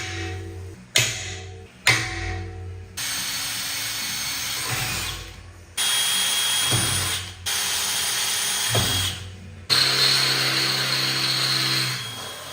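A power drill bores holes through an aluminum rack on a Toyota Tacoma truck in short repeated bursts, loud whirring runs separated by brief pauses and clicks.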